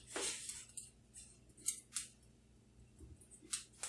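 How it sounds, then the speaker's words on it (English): Scissors snipping open a food package in a home kitchen, several quiet separate cuts in an irregular rhythm, close and faint. "Move the scissors so I can open the package up."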